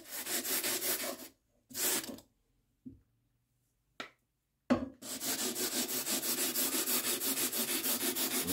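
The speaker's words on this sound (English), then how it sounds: "And then filing with the direction of brushing in the direction of the cup." A metal file worked slowly across a gunmaker's tool in long rasping strokes, a few separated passes and small clicks before a sustained run of rhythmic scraping near the end, close and fairly loud with no talk.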